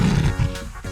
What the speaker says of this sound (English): L is for lion. Lions have big golden manes. Let's give a big roar.